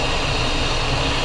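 Cessna Citation jet engines roar at takeoff power during a takeoff from Nassau, Bahamas, a loud, steady, broadband rush heard close from inside the aircraft, with no talk.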